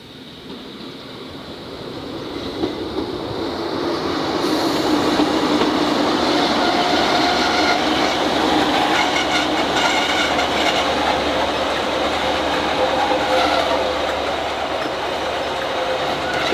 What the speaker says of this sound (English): The first train is in